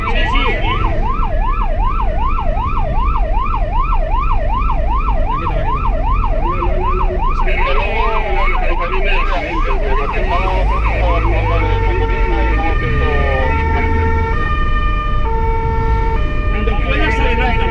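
Ambulance and fire engine sirens blare loud and close on a road, first a rapid warbling wail, then shifting into a slower alternating two-tone pattern, continuous throughout over engine rumble.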